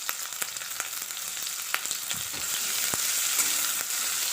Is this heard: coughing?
no